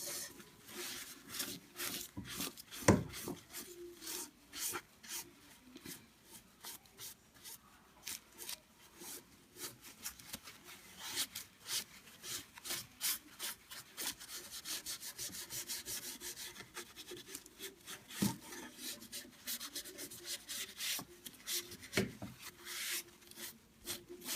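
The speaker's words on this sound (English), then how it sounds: "And then I'm just gonna wipe off the excess." A cloth or rag rubs and wipes excess black Annie Sloan glaze off painted wood, making a steady, quiet, close scraping and rubbing sound with occasional knocks and no talking.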